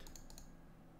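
Quick, light keystrokes on a computer keyboard, four or five soft clicks in a short burst while a username is typed at a Linux login, faint and close with nothing else heard.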